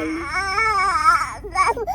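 An infant cries in loud, wavering wails that rise and fall, sustained for over a second, then break into shorter sobbing bursts close to the microphone.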